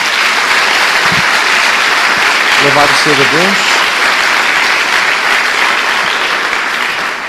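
A church congregation applauds as a broad wash of steady clapping that continues throughout, while a voice briefly speaks over it.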